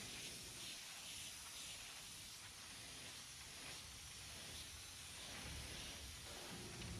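Spray gun applying pearl mid coat and clear coat to a car bumper during a home paint and body repair, a steady continuous hiss of atomized paint running unbroken and fairly even throughout.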